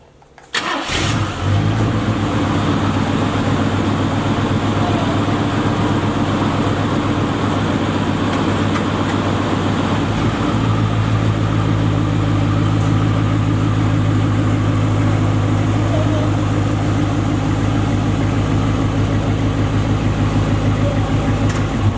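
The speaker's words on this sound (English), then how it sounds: "Let me pull this car forward" A box Chevy car engine cranks and catches near the start, settles into a loud, steady idle, then deepens and rumbles louder about halfway through as the car pulls forward, close to the microphone.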